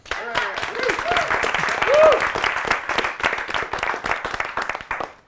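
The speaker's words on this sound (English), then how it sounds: "Now we clap." A crowd claps steadily for several seconds, dense applause near and loud, with a few voices cheering over it.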